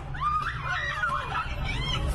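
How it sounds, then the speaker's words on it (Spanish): A woman screams and wails in distress after being shoved to the ground inside a shopping mall in Tehran during protests, her rising, wavering cries loud and continuous over a dense crowd murmur. "grita esta mujer cuando la han zarandeado y tirado al suelo en un centro comercial de Teherán"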